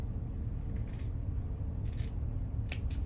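Sharp snips from scissors cutting cloth for a doll body, a few brief close cuts over a steady low background rumble.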